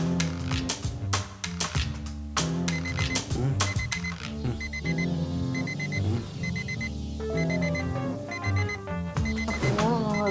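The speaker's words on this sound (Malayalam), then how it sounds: "അത് അലാറം അടി." An alarm clock set for four o'clock rings indoors, a run of repeated high electronic beeps sounding over steady background music, with no talking.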